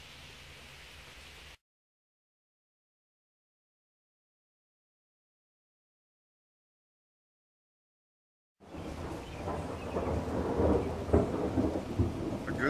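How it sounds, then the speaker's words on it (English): Thunder and steady rain during a storm after a power outage, a brief rumbling wash, then silence, then a loud, dense roar of rain with rolling thunder building toward the end. "A good day to sit around and listen to the thunder."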